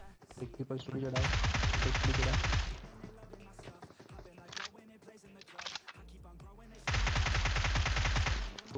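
Two long bursts of rapid automatic gunfire in PUBG, loud and close, separated by a quieter stretch with a few scattered shots and faint voices.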